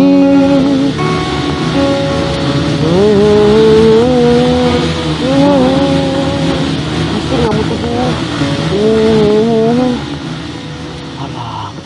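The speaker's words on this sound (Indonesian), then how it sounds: "Macam ni abang nyanyi motor tu bising." A loud, noisy motorcycle engine drones and revs close by, its pitch wavering up and down continuously, with a voice faintly mixed in.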